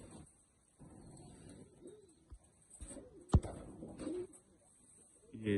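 Pigeon cooing close by while a female bird is handled and checked, soft intermittent coos with faint handling rustle and a sharp knock midway, rising louder near the end.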